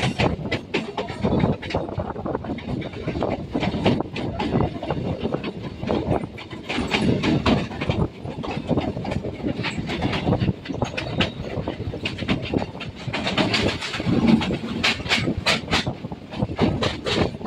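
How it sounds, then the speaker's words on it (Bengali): Dhanadhanya Express rushing past on the adjacent line of a local train route, loud close rumble with a dense, rapid clickety-clack of wheels over rail joints sustained across the whole stretch, occasional hiss and squeal. "পাশের লাইন দিয়ে বেরিয়ে যাচ্ছে ধনধান্য এক্সপ্রেস।"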